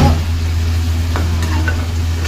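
Ginamos, a fermented fish paste, fries in a pan with a continuous close sizzle over a steady low hum, broken by a few faint scrapes and clicks and no talking.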